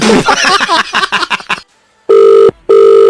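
A voice talks at first, then after a brief silence two loud electronic ring tones sound, a steady pulsing telephone ringing close by.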